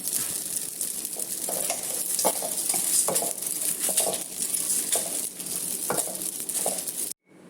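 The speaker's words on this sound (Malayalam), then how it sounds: "ഇപ്പം നന്നായിട്ട് വറുത്ത് എടുത്തിട്ടുണ്ട്" Whole spices for curry powder crackle and sizzle steadily as they dry-roast on low flame, with soft scraping stirs and occasional clicks, close and continuous, no voices.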